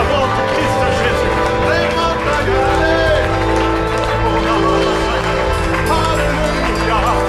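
A church congregation acclaims Jesus during a praise and worship session, loud and continuous, with many voices shouting and cheering over clapping and layered singing and instruments.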